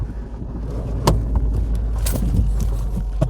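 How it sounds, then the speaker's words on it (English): Car engine of a Vauxhall Astra F, back on the road after four years parked, running steadily up close with a few clicks and knocks from inside the cabin, no talk. "First drive in 4 years for this car."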